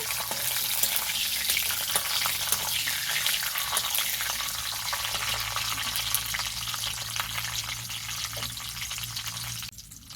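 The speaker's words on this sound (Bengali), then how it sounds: "কিছুক্ষণ নাড়াচাড়া করে নেব।" Ridge gourd with mustard seeds and dried red chillies fries in a pan, a loud, steady sizzle running throughout with occasional scraping stirs, easing slightly near the end.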